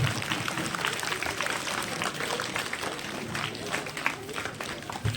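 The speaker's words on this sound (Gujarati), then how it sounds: "પધારેલ વાલીઓ, માતાઓને આપણે તાળીઓના ગડગડાટથી વધાવી લઈશું." Applause from assembled parents and villagers at a school Republic Day celebration, a dense, steady wash of many hands clapping throughout, moderately loud and continuous with no voices standing out.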